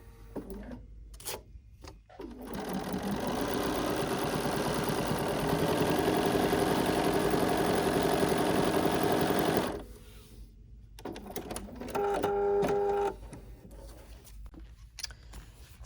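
A sewing machine stitches a quilt block in a steady, fast, continuous run lasting several seconds, close and clear, with short quieter bursts of stitching after it.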